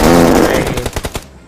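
An M249 machine gun fires in a video game, delivering a loud, rapid burst of roughly a dozen shots that trails off into quick separate cracks before stopping.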